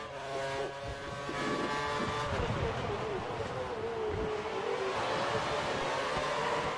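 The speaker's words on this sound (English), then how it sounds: "Oh, I've been spun out by a Spaniard." Racing cars in the F1 2013 video game at the Nurburgring, engines whining and revving steadily as one car is spun out, with excited talk over the continuous, fairly loud engine drone.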